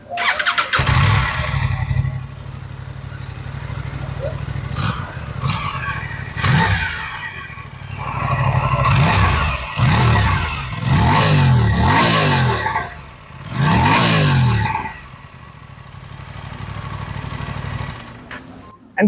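An Aprilia Tuono 457 twin-cylinder motorcycle idles close by, then is revved repeatedly in several rising bursts that fall back to a steady idle between them.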